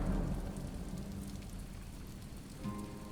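Steady rain falls on a surface, a dense continuous patter of drops holding an even level throughout, with no voices.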